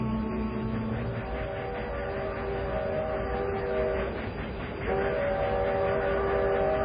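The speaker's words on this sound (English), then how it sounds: "That's the eastbound freight." An eastbound freight train passing close by, a loud continuous rumble and clatter of wheels with sustained horn tones running over it, dipping briefly mid-pass before resuming.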